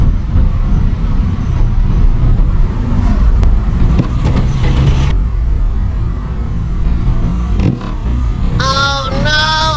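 A car engine revving and pulling in second gear while overtaking a jeep on a road, a loud sustained drone with road rumble, then a horn-like tonal blare near the end.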